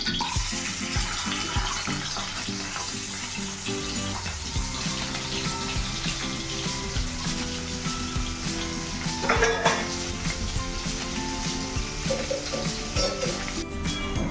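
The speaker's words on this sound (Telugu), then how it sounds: "ఉల్లిపాయలు వేగిపోయినాయి" Steady sizzling of onions and chillies frying in hot oil, continuous and close, with a brief clink of a utensil partway through.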